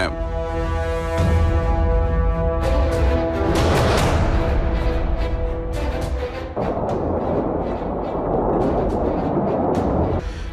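A volcanic eruption near an area where several airports were shut produces a loud, continuous roaring rumble with heavy blasts and dense noise that never lets up.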